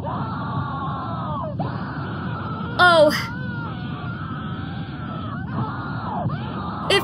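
A short, high, blood-curdling female scream bursts out briefly partway through a disturbing old animated cartoon, over a loud, constant droning background.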